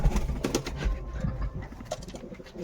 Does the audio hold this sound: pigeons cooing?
yes